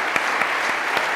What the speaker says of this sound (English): I appreciate the applause.